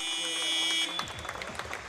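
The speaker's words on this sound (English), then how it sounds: "there goes the buzzer" End-of-game buzzer at a British handball match sounds as a loud, steady electronic tone for just under a second, then cuts off into crowd noise and clapping.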